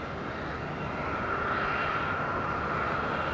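A fixed-wing airplane on approach to Madeira Island Airport makes a steady, loud engine roar with a sustained hum, heard alone without talk.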